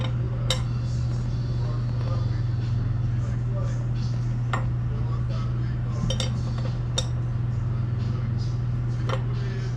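Metal clinks and ticks from tightening an axle bolt and nut on a Yamaha RD400 motorcycle's front end, sparse sharp taps of a wrench against a steady low electrical hum in a workshop.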